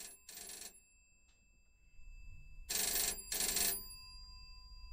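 A telephone rings in two paired bursts, a short double ring, a pause, then another double ring, bright and fairly close over a low background hum, with no talking.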